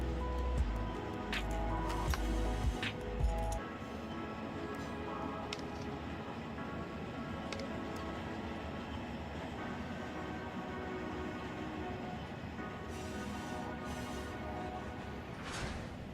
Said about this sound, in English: now we'll throw on the train brake